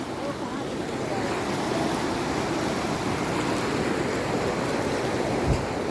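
Fast-flowing river water rushes through the Gaula barrage on the Gaula river near Kathgodam, Uttarakhand, making a loud, steady, broadband roar that stays close and unbroken throughout.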